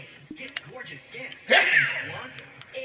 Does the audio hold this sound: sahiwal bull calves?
no